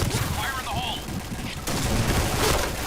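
Gunfire from an AUG assault rifle in a shooting video game, a dense burst of shots under continuous noisy game sound, with a voice speaking over part of it.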